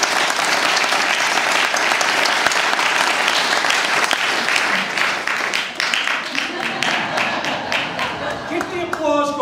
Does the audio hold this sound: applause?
yes